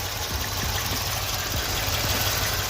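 A Mercedes C63s AMG engine idles with cylinders 1 and 2 unplugged, giving a steady, loud, close rumble with faint regular ticks and no voices.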